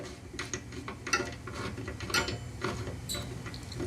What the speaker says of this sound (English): So we'll tighten that tip up.